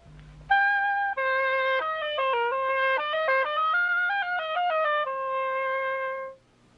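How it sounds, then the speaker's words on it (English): A solo oboe plays a short melodic phrase of clear, reedy sustained notes stepping up and down, heard close and alone before ending abruptly. "It's the oboe."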